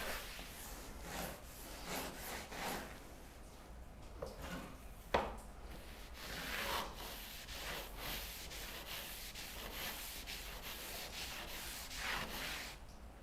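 A rusty hand plane being scrubbed clean of rust and gunk, a steady rasping rub with repeated strokes throughout, one sharp knock partway, close and fairly quiet, with no talking.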